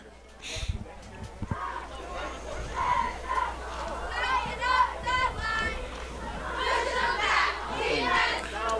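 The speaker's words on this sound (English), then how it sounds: "Nottingham cheerleaders doing a nice job today" High school football cheerleaders cheering at a Nottingham Northstars home game against Princeton, shrill chants and shouts rising and falling over a distant crowd murmur, fairly faint and moderately far off.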